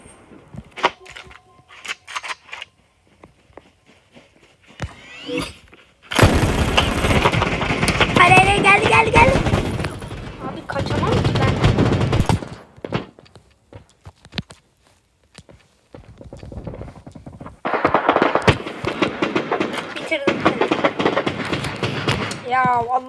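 Loud automatic gunfire in the Battle Prime video game comes in long sustained bursts separated by quieter stretches of footsteps and thuds, close-up, with a person talking over parts of it.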